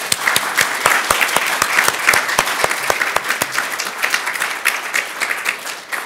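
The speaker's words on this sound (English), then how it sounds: "I just want to give another round of applause to these 5 gentlemen for leading their work" An audience at a summit closing plenary applauds, with dense, sustained clapping that stays loud and steady throughout.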